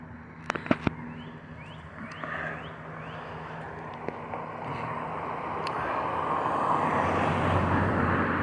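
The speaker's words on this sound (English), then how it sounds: "Oh, we got helicopters coming. I can hear them." Helicopters approach and fly overhead in a suburban neighborhood, a broad rising rumble that swells steadily louder toward the end, with a few sharp clicks and faint chirps early on.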